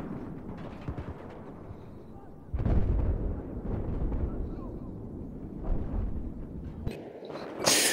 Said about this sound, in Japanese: で、爆発する、敵が。